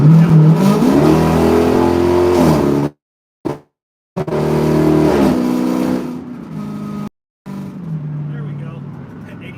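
A loud truck engine revs up close, its pitch climbing and dropping repeatedly, cutting out briefly twice before roaring again.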